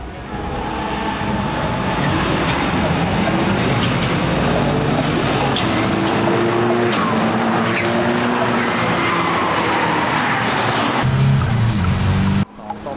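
A race car at full power in a Thailand TSS race, engine roaring loud and steady for most of the clip, with skidding tyres and a sudden cutoff near the end.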